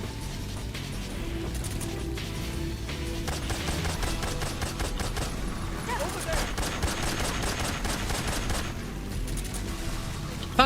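Steady rapid gunfire shooting down guards in the stealth game Metal Gear Solid 3, with rattling mechanical clicks under a voice talking over the whole stretch.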